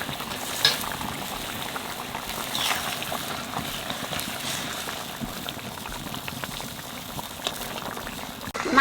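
Water boils vigorously in a pot on the stove before fish goes in. A continuous bubbling roll with small pops and splashes stays close and steady, ending in a slight clatter.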